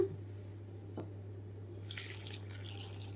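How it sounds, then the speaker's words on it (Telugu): A brief splash of water poured into a pot, a short gurgling burst near the end over a steady low hum. "కొంచెంగా అరకప్పు మాత్రమే వాటర్ వేస్తున్నాను నేను ఇక్కడ"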